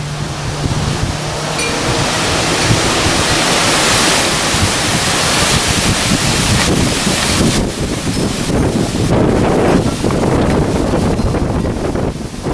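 A steady gusting wind rushes through bushes outdoors ahead of rain, a broad, continuous roar that buffets the microphone and stays loud and unbroken, with no voices.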